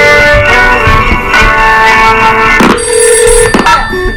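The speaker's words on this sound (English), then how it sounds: "Is that a phone call?" A telephone rings over a busy background of music and noise, the ringing loud and repeated across the clip.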